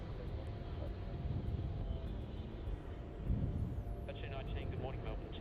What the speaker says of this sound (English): Rolling down runway 16.